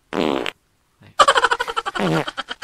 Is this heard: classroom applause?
no